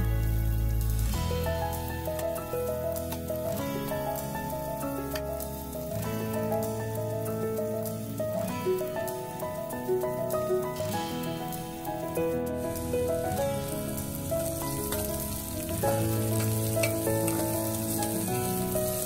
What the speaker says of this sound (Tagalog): igisa lang natin yung ating onions. Ayan, lots of onions.